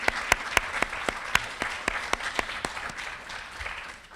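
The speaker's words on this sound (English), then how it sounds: "just take a moment to applaud all of the honorees" Audience applause for the honorees at a writers' event: a few distinct, sharp hand claps standing out over a softer, scattered clapping that thins out toward the end.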